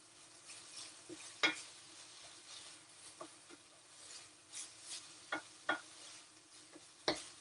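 Food stirred with oil in a hot pan while cooking Hungarian style: soft sizzle under scattered clicking utensil taps and scrapes against the pan, fairly quiet and close.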